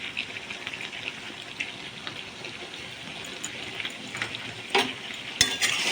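Vegetables sizzle and crackle in a pan as they are stirred while frying for a Saraswati Puja whole boiled-vegetable dish, a steady close hiss with scraping bursts of stirring and no talk.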